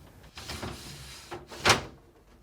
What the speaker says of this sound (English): place the back edge on the cover and carefully slide into place